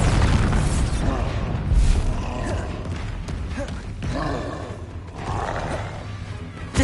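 A Bombarda explosion spell in the video game Hogwarts Legacy, a loud, deep boom with rumbling, crackling debris amid busy combat effects, with a voice calling out.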